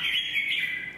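A red-whiskered bulbul sings loudly and close, pouring out a steady, twisting warble with no voices heard.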